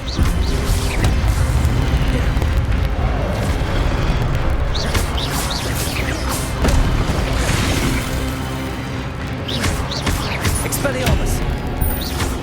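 Spell impacts from a Hogwarts Legacy combat sequence land as repeated booms and crashing hits over dense, continuous battle noise, loud and close, with a character's voice casting spells in between.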